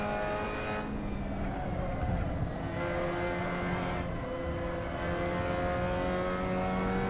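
Race car engine in a racing video game, a steady high whine that rises and drops through gear changes with sustained revving tones, heard alone without talk.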